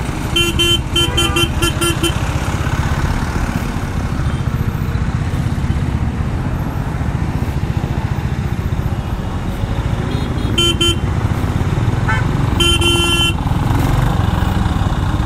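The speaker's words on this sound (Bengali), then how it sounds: "ফাইনালি আমরা জ্যাম পাইছি" Congested road traffic jam heard during a Royal Enfield Classic 350 motorcycle ride, with a steady loud engine and traffic rumble and repeated car and motorcycle horn toots and short honking bursts scattered through, some close and some farther off.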